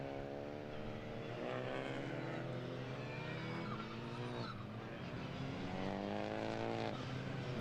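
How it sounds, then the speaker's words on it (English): Turbocharged Renault Clio Cup race cars of around 200 horsepower race at the Hungaroring, giving a loud, continuous engine roar whose revs climb repeatedly, with a shift near the middle and rising pitch again afterward. "The fantastic noise these cars make. Turbocharged engines, of course."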